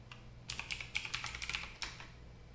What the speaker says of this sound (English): And then I'm going to type in our password